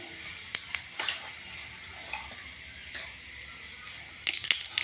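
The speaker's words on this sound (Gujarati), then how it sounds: "સૂકા મસાલા આપણા ફૂટી ગયા છે." Mustard seeds and dry spices splutter in hot oil in a kadai, giving scattered sharp pops and crackles over a faint hiss, with a denser burst near the end.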